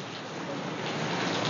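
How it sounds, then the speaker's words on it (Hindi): Steady rain pours during a cold, stormy spell, a dense continuous hiss with rising intensity, close and loud, with no voices. "क्या बारिश हो रही है लोग, और बिजली भी कड़क रही है।"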